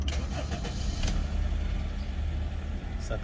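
A 2004 Honda CR-V 2.0 i-VTEC 4WD engine cranks and fires on the first try, then settles into a steady, close, continuous idle rumble with no one talking.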